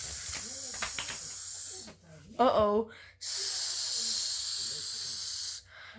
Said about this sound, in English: That fish's bionic claw punctured the living spray tank.